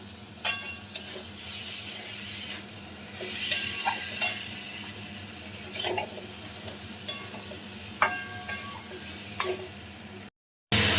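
A spatula scrapes and clinks against a pan in irregular strokes over a constant sizzle of vegetables frying, close by.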